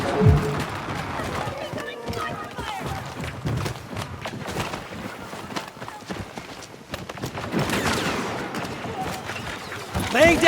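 Blaster fire rattles in quick, uneven bursts during a Star Wars Battlefront 2 battle at Takodana Fortress, with game chatter and footsteps mixed in and a louder flurry toward the end.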